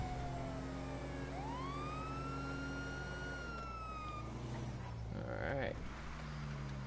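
A video game emergency vehicle siren wails, sweeping upward and holding a high tone over engine drone, then fading into brief mechanical noise.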